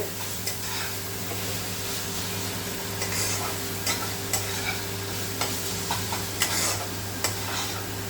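Spice paste for chicken curry fries in oil that has begun to separate from the masala, holding a continuous close sizzle as a spoon stirs and taps against the pot in a loose, regular rhythm.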